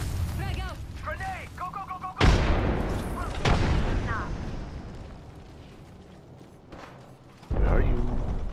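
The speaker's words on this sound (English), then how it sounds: "Frag out. Grenade." Several heavy grenade blasts in GTA 5 Online, loud booming hits with rumbling decay, spaced among gunfire and game sounds while players talk in between.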